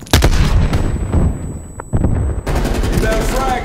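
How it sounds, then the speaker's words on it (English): A frag grenade goes off in Call of Duty Cold War on the Nuketown map, a close, loud burst of blast and rumbling gunfire that cuts out briefly, then resumes with more fire behind it. "throwing a frag."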